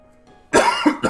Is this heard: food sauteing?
no